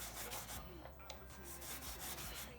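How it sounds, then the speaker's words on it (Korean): Steady dry rubbing of fine soft sandpaper across metal during jewelry finishing work, a continuous close rasping scrape with no voices. "이 사포질만 잘해도"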